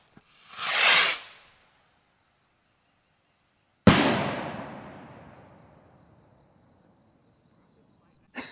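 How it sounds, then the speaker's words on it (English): A salute bottle rocket launches with a rising hiss, then after a few seconds of quiet bursts in one sharp, loud bang that fades in a long echoing tail, with a steady high insect-like whine throughout. "All right, here goes another white ass rocket."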